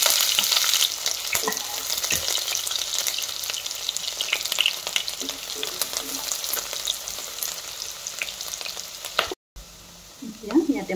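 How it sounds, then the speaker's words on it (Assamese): Onions frying in hot mustard oil in a karahi wok give a steady, close, bright sizzle with occasional stirring scrapes, broken by a brief dropout near the end. No one speaks. "এতিয়া মই মিঠাতেল ঢালি দিছোঁ, তেল গৰম হৈ গৈছে, মই এতিয়া পিঁয়াজ দি দিছোঁ।"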